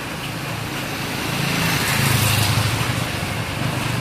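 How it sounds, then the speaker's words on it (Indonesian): A motorcycle fitted with a 15 cm TR1 muffler exhaust, its engine droning steadily up close and swelling slightly louder midway before settling, with no talk. "ini pakai knalpotnya pakai dos yang 15 cm model TR1"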